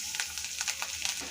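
A soft, steady sizzle of garlic frying in hot oil, with faint crackles popping through a constant hiss.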